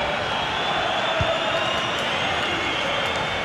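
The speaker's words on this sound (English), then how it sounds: "Well, just listen to this crowd." A large stadium crowd at a Benfica vs Ajax Champions League match in the FIFA 22 video game keeps up a steady, dense roar with no clear peaks.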